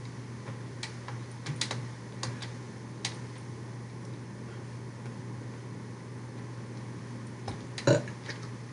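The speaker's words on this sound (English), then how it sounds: "You yawn, I burp." A single burp from a player during a Roblox Murder Mystery 2 session, heard near the end over steady background hum and scattered keyboard clicks.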